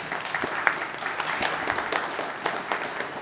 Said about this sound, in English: Please give a big applause for that.